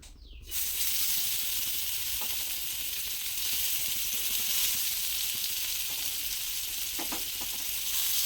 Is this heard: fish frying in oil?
yes